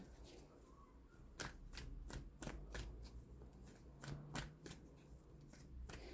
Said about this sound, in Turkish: Bir bonus kart çekmek istiyorum size sevgili kovalar